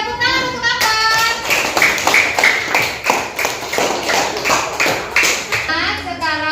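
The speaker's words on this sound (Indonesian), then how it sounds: "Tepuk tangan untuk Akbar." A classroom of children clapping for a classmate, quick rhythmic claps in a bright, close burst with some pattern to the beats, while voices talk at the start and end.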